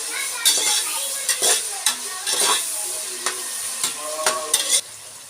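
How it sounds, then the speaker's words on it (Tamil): Onions sauté in a pan for a simple chicken biryani, a close, loud sizzle broken by repeated spatula stirs and scrapes against the pan, with no voice. "நல்லா வதங்கி வரட்டுங்க."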